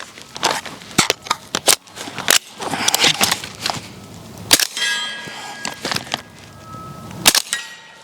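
Sharp, close reports from a suppressed 9mm MP5 SD clone firing subsonic rounds into a berm, a run of irregularly spaced cracks with metallic clatter, and several more shots near the end.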